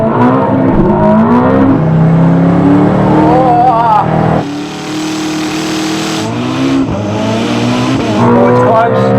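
A Bugatti Divo and a Koenigsegg Jesko launch in a drag race, with loud roaring engines climbing through gear changes, squealing tires and a sudden shift mid-run, while a person talks over the noise.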